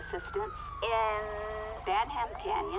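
A San Andreas Highway Patrol police siren in GTA V (LSPDFR) switches between rising wails and rapid yelping tones, fairly close and clear against a low engine hum.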